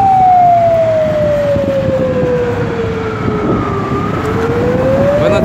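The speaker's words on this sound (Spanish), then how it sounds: "ahí va el compañero con el megáfono para que los escuchen y los respeten" A siren wails from a megaphone carried along on a group bicycle ride down a highway, its pitch sliding slowly down and then back up, loud and close over steady road and wind noise.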